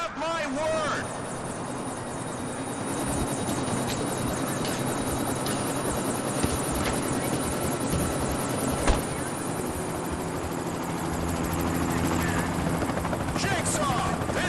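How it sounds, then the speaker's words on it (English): Helicopter arriving in a cutscene from The Punisher video game, a steady loud rotor and engine drone that holds throughout, with voices shouting over it. "Chopper's here, Jigsaw!"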